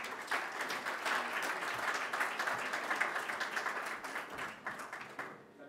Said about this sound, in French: Je vous prie de l'accueillir par vos chaleureux applaudissements